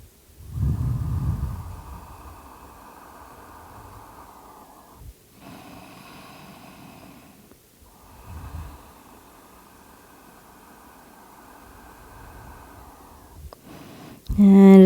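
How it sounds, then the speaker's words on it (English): Slow, deep breathing during a yin yoga hip session: long airy inhales and exhales spread over several seconds, close and fairly loud against a steady background hiss. "Take a few more breaths."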